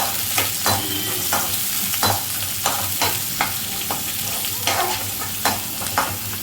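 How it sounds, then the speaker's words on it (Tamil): Onions, mushrooms and capsicum sauté in a pan with a constant sizzle while a spoon stirs and scrapes in regular strokes, loud and close. "வெங்காயத்தை கடைசியாக போடுங்க. இதெல்லாம் வதக்கலாம்."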